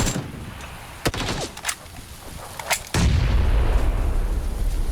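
Sharp grenade explosions in PUBG crack out a few times, the last one heavy and followed by a sustained rumbling roar, with no speech.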